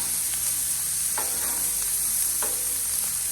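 Scallops sear on a Blackstone flat-top griddle with a steady close sizzle, broken by a few sharp scrapes and taps as the spatula flips them.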